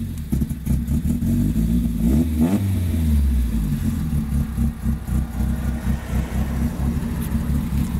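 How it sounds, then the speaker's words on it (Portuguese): A carbureted Volkswagen Parati Surf engine idles with a steady, slightly rough low rumble, briefly revving up and settling back, loud and close. "Olha a lenta desse carro, maravilhosa"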